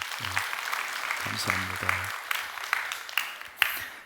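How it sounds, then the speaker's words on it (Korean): A church congregation applauds in a brief burst of mixed clapping, fairly distant, while a voice speaks over it. "박수 한번 해주셔요"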